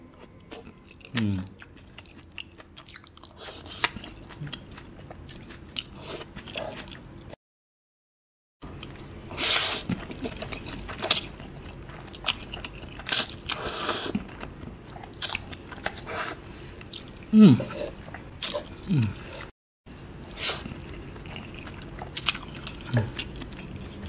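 Close, crisp bites and wet chewing on garlic, repeated crunching and smacking bursts spread through the stretch, with brief silent gaps and no talk over it.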